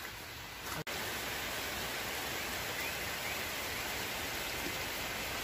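Steady rain patters down on a garden flowerbed, a dense, even hiss of drops close by with one brief dropout near the start and no voices.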